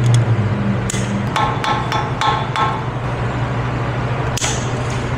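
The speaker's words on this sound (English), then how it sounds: "Precision split pin installation" Metal-on-metal taps drive a new split pin into an axle nut, a quick run of five or six sharp strikes close up, then a single final tap after a pause.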